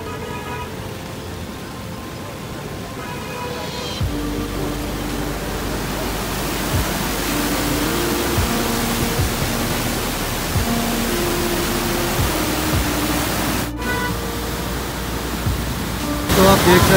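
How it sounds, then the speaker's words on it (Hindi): A flooded river swollen by heavy rain in Dharamshala roars in a broad, continuous rush of water, loud and close. The roar swells after a few seconds and stays steady throughout, with no talk. "देख सकते हो यार कितना ही ज़्यादा पानी फिर से अगेन आ चुका है यहाँ पे नदी नालों में, और कितनी ज़्यादा आवाज़ हो रही है"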